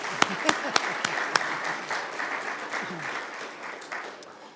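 A church congregation breaks into applause, a few sharp claps leading into a sustained wash of clapping that slowly fades.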